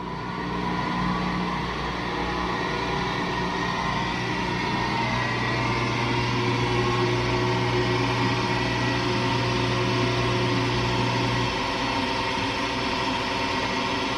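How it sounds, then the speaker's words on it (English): An LG WM3488HS washer/dryer with a failing fan motor gives off a steady mechanical hum and whir with a sustained low drone that drops away near the end, played back as a recording with no talking. "I think it's a fan motor."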